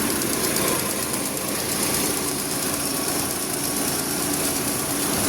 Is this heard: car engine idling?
yes